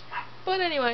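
A dog lets out a single high, drawn-out yelping bark that rises and then bends downward, close and loud, following a man's brief speech.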